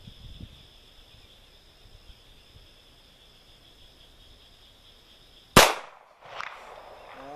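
A single sharp, loud gunshot from a SIG Sauer P226 pistol fired double action on an outdoor range, crackling off after a quiet stretch with faint insect hum in the background, followed by a short echo.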